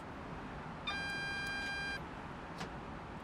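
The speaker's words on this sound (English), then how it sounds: "Oh, it's a phone." A phone in Train Simulator Classic on the Great Eastern Main Line gives one steady electronic beep of about a second, thin and clear over a low, even background rumble.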